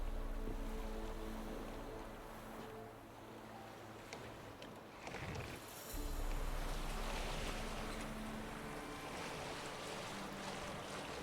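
A boat on open water in The Witcher 3: Wild Hunt, with a low steady hull rumble, lapping waves and wind, and a brief splash partway through.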